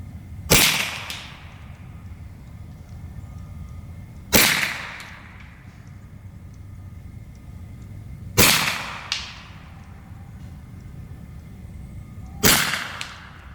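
An Evanix MP30 Viper semi-automatic air gun fires AEA pellets: four sharp, loud cracks spaced about four seconds apart, each with a short ringing decay, plus a fainter follow-up snap after the third.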